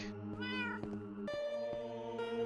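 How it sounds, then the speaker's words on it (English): Cats meowing in the Minecraft video game: a few drawn-out, tonal in-game meows follow one another closely, clear and fairly loud over a steady game background with no talking. "Hey, he's got some cats."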